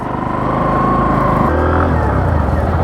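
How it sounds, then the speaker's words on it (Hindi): A Hero Glamour X 125 motorcycle engine runs steadily and loud and close, its tone dropping and shifting midway as it goes into first gear, with a continuous low rumble throughout. "फटाफट से मैं इसको स्टार्ट करता हूँ, फर्स्ट गियर पर शिफ्ट करता हूँ।"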